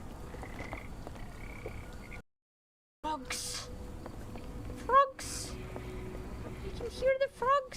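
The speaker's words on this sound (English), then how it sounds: "hear the frogs?" Frogs croak close by in bursts of repeated rising calls, one cluster near the middle and a denser run at the end, over a steady background hum and broken by a short silent gap.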